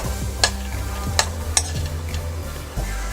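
Dry fruits fry in hot ghee with a low, continuous sizzle, broken by several sharp clicks of a spoon stirring against the pan at irregular intervals, with a steady hum underneath.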